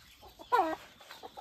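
A village rooster, just caught and having its legs tied, gives a single loud squawking cluck midway, framed by softer scattered clucks and rustling, close by with no talk.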